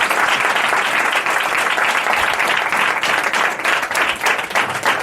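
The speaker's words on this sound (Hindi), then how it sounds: "एक जोरदार ताली बजाएंगे हमारे पवित्र आत्मा के लिए।" Loud, steady applause from a church congregation at a Holy Spirit teaching, dense clapping filling the whole stretch without letting up.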